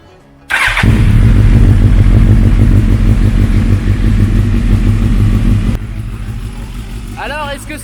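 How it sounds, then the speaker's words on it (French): A motorcycle engine freshly serviced with an oil change starts up and idles loudly and steadily close by, a rough rumbling beat, then drops in level near the end as a voice speaks over it. "Là, on va faire tourner le moteur, histoire que ça remplisse le filtre à huile."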